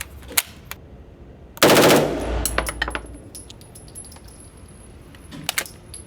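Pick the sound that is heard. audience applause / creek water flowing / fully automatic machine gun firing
fully automatic machine gun firing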